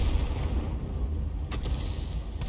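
Bishop self-propelled artillery gun firing in a tank video game, a single heavy boom over a low rumbling background, close and loud.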